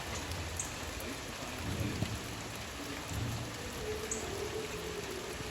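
Steady rain falls outdoors around birds and a small chicken, a dense continuous patter over the whole span, with a low rumble that may be distant thunder.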